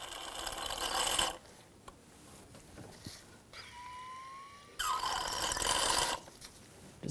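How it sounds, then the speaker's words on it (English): A hand-operated fluid extraction pump draws old brake fluid from the reservoir of a 2000-2006 BMW X5, giving bursts of harsh hissing suction separated by quieter gaps and a brief squeak, close up with no talk. "I'm going to use a fluid extraction pump. Remove as much of the old brake fluid as possible."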